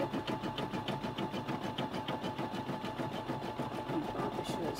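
An embroidery machine stitches a baseball hat with a steady, rapid mechanical chatter of needle strokes, even and continuous at moderate volume.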